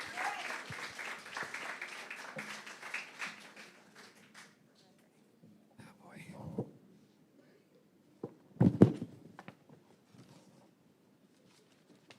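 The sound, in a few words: audience applause at a graduation ceremony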